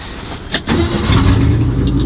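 A 48-year-old truck engine cranks briefly, then catches and settles into a loud, steady idle that runs on without speech.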